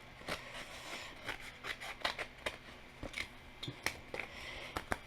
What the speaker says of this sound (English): just cut it down one end, cut out a piece, cut out a